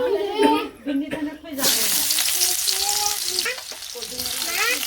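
Onions hit hot oil in a village kitchen, bursting into a loud, steady sizzle that carries on to the end after a few moments of talking and clatter at the start.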